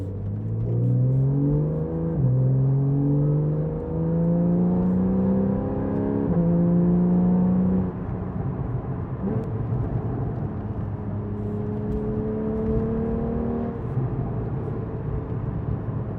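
A 2013 Porsche 911 Carrera S (991.1) accelerates in third gear at about 55 mph. The engine tone rises steadily and loudly, eases after a few seconds, then climbs again, heard from inside the car with no talking.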